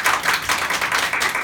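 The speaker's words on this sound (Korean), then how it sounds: "박수 한번 하겠습니다." A church congregation applauds, a brief burst of dense, even clapping from many hands indoors.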